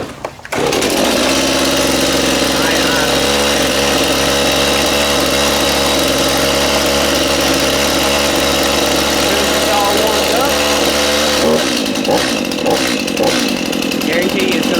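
A chainsaw started from cold on half choke, an orange tree cutting job nearby, catches and runs loud and steady close up for about eleven seconds, then the engine note drops off near the end.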